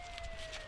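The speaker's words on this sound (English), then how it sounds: "I think the cops are showing up by your sirens." Police car sirens wail steadily in the distance, a faint continuous tone over a low background rumble.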